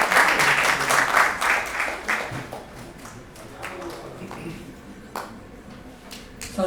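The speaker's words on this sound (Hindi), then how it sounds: "जोरदार तालियों से स्वागत करें" An audience bursts into loud, dense clapping to welcome a play's director, the applause strongest at first, then thinning into scattered claps before a brief renewed swell at the end.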